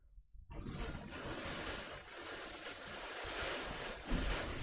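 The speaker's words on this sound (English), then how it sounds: "It is pounding and it is just so windy. Like you could just hear the wind." Strong wind from a winter storm over New Mexico roars in after a brief silence, a steady, turbulent rush that swells and gusts louder toward the end, close and buffeting.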